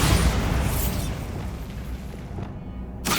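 The Bombarda blasting spell in Hogwarts Legacy sets off a loud, close explosion whose deep rumbling boom fills the moment and then decays, with a second burst starting right at the end.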